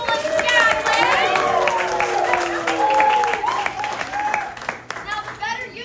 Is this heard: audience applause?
yes